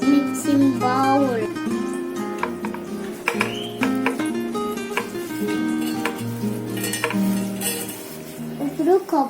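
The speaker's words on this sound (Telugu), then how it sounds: "Transfer this to a mixing bowl." Food is scraped from a pan into a mixing bowl with a metal utensil, giving repeated clinks, scrapes and ringing metallic knocks at close range throughout, with a voice faintly present.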